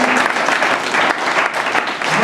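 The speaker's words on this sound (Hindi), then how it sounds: "तालियों से स्वागत करें।" A gathered audience at a yoga camp welcoming event claps loudly and continuously, a thick wash of applause filling the hall from start to finish.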